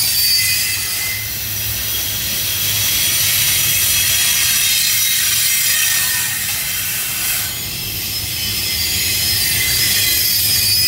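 A freight train led by an SD70ACC locomotive with a GP38-2 in the consist rolls north through Chamblee, a loud sustained rumble topped by high steady wheel squeal and faint horn tones.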